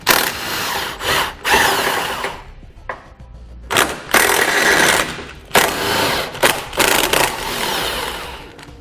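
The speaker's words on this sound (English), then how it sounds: "We use an 18mm socket to remove those." An 18mm socket on a power tool spins out bumper beam bolts behind the rear bumper of a 2014 vehicle, giving several loud, close bursts of whirring and rattling separated by short pauses.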